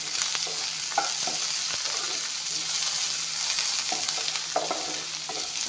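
Chopped onion and garlic fry together with five-spice seeds in a pan, a steady close hiss of sizzling oil broken by a few soft scrapes of stirring, with no voices.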